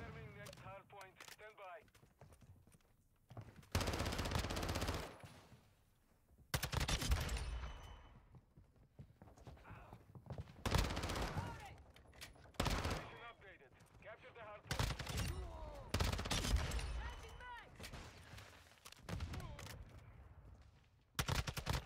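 VEL 46 submachine gun in Modern Warfare 2, firing in several rapid bursts of automatic fire separated by short quieter gaps, with distant game action between the volleys.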